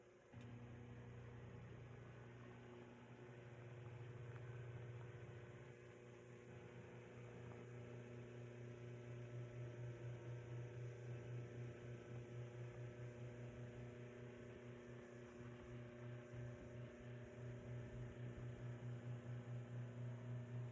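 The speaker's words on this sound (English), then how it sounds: "You turn your drum sander on." SuperMax 25-50 drum sander running steadily with its feed engaged, a constant loud motor hum and drone that stays even throughout, with a slight pulsing flutter toward the end.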